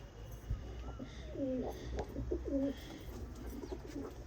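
A Teddy pigeon and other pigeons coo in a loft, a series of clear, rolling coos at mid-distance over steady low background noise.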